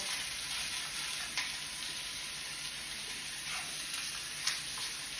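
Red hot links, split down the middle, frying in oil in a pan: a steady, bright sizzle with occasional small pops and crackles, close and continuous.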